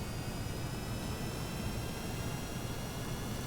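Steady broadband jet-engine roar from a craft throttled up in Kerbal Space Program, an even continuous rush with faint high whine lines, constant and loud with no breaks.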